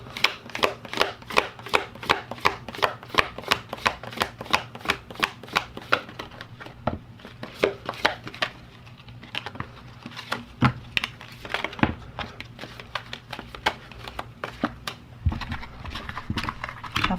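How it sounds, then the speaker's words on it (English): A deck of cards is shuffled overhand by hand, a rapid series of sharp, close slapping clicks in quick bursts, broken by a short lull before the rhythm resumes. "I will now be shuffling it overhand 3 times"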